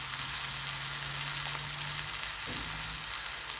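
A plantain patty fries in hot oil in a pot over a low-to-medium flame, giving a steady, close sizzle with a faint tonal hum and a brief clatter partway through.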